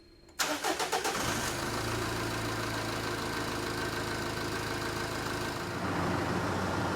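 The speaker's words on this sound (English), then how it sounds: "So that's it with the engine running." A 2005 Jeep Cherokee 2.8 CRD diesel engine with an intermittent cut-out fault cranks and catches, then settles into a steady, slightly knocking idle, close and continuous with no talk.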